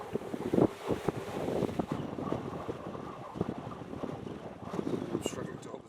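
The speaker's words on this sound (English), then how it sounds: "Very windy, lots of grass blowing." Gusty wind buffets the microphone in bursts, blowing through grass with rustling and blowing noise and a voice speaking faintly underneath.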